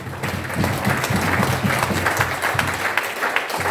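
Audience clapping at a network marketing seminar in Agra, loud and sustained throughout, with a low murmur of the crowd running beneath the dense applause.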